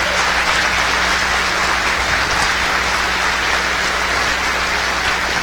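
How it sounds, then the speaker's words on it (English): Convention crowd at a Minnesota Republican district gathering applauding legislators, a dense, loud, continuous wash of clapping that holds steady throughout with a low background hum. "Give these guys a round of applause."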